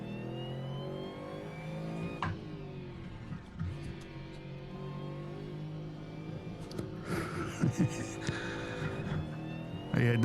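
A modded car engine in the Assetto Corsa racing game at Phillip Island drones with steady harmonic tone, shifting pitch as it revs and drops, with brief bursts of higher revving near the end.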